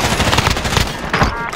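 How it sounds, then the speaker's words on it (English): A rapid burst of automatic gunfire in the video game Call of Duty: Modern Warfare, loud and close, with dense repeated shots rattling for about a second and a half. "Taking fire here."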